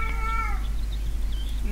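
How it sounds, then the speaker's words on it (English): A cat in the horror video game Erie gives a short, clear meow over a steady low hum, followed by quiet ambient game sound. "Why is it meowing?"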